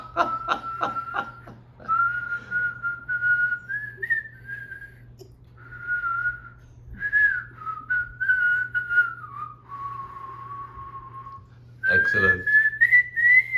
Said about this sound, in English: But I had two brothers that taught me how to whistle.